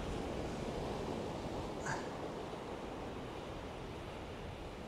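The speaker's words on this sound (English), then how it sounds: "I think that wind's increasing." Steady wind roars at a beach in Southbourne, a dense, continuous broadband rush like surf and gusts, fairly faint and unbroken throughout.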